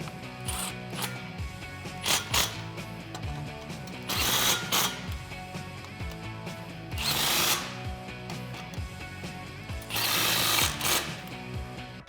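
A power tool tightens exhaust clamps on a Corsa Xtreme 3-inch cat-back fitted to a 2015-2019 Ford Mustang GT, heard as several short ratcheting, rattling bursts separated by pauses, with faint mechanical clicks in between.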